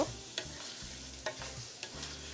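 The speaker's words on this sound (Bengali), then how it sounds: "এখন এসব কিছু আমি ভুনা করে নেব" Ash gourd and prawns stir-frying in a pan, a steady soft sizzle broken by several distinct scraping stirs of the spatula, close and alone with no voices.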